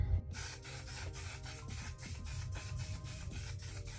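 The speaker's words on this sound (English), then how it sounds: "Make sure to shake it, because I'm just kind of scared it's gonna be all white." A bottle of setting spray is shaken in quick, regular strokes, producing a rhythmic rattling and sloshing close up, repeated about a dozen times with no talk.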